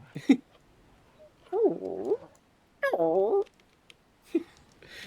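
Torgal the dog in Final Fantasy XVI makes soft whimpering, yippy vocal sounds in short bursts while being petted, with quiet gaps between them and a few faint background noises.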